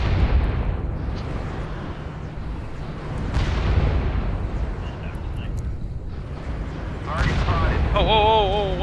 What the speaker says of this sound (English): Airstrike on the way.